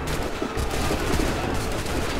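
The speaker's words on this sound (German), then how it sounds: "Perfekter Schuss." Gunfire in Assassin's Creed 3 crackles in dense bursts over a busy game soundscape, loud and close with rapid, overlapping shots.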